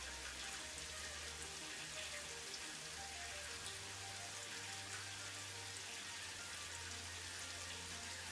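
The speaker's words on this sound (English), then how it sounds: "It's raining. I finally get to see it. I get to see the rain." Rain falls steadily in the factory-building video game Satisfactory, a soft, constant hiss of drops that runs evenly under low game music with no talk.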